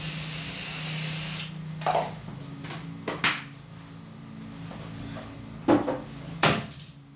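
Non-stick cooking spray hisses onto a non-stick baking pan before piping eclair shells. There is one steady spray lasting about a second and a half, followed by quiet clicks and knocks of handling in a kitchen.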